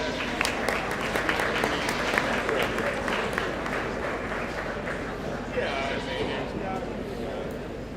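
Crowd applause in an arena at a meat goat show, steady dense clapping sustained for the whole stretch, with a voice talking over it.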